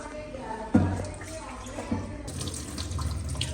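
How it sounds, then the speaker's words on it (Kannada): Urad dal and rice being rinsed under running tap water in a sink, a steady close trickle and splash with a sharper splash near the start and a brighter rush later. "ಒಂದು ಎರಡು ಮೂರು ಸಲ ನೀರು ಹಾಕಿ ತೊಳಿಬೇಕು"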